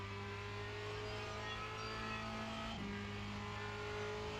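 Formula Renault 2.0 race car engine in the iRacing simulator held at full throttle, a steady high-pitched drone with a brief dip as the gear changes, then climbing again, loud and constant with no speech.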